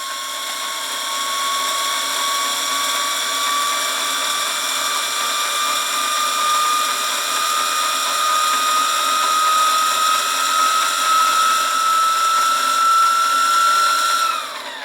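A Wilesco T115 toy steam turbine spins the motor shaft with a loud, continuous high whine whose pitch climbs slowly over many seconds, then drops away sharply at the end; no voices.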